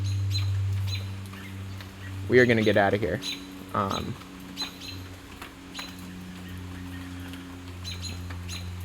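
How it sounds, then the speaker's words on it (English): Robins near their nest give a few sharp chirps and calls in a brief burst, fairly close, over a low steady hum, with someone talking alongside. "these robins are not happy that we're close"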